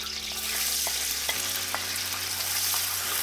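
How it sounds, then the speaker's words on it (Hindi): Onions hitting hot ghee in a pot, a dense continuous sizzle with a sharp crackle and a few stirring clinks, close and loud with no talking. "घी मेरा ऑलरेडी गर्म था, अब मैं इसमें डालूंगी प्याज।"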